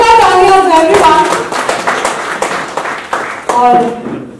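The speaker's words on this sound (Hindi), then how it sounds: "एक बार जोरदार तालियां फॉर एवरीवन।" Audience applause at a literature festival in a Hindi hall, a short burst of close clapping that swells and fades under a voice speaking over it.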